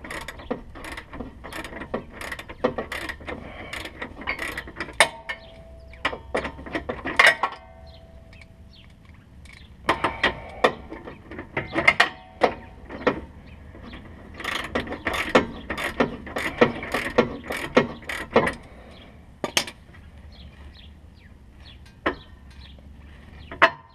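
A socket wrench ratchets in quick bursts of clicking while fitting an Eibach anti-roll sway bar on a Scion FR-S or Subaru BRZ, close and crisp, with brief pauses between runs of strokes.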